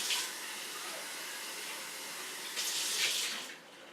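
Hot water rinsing out a Jetboil cooking pot, a steady close broadband splash and hiss running throughout and swelling louder for a moment near the end.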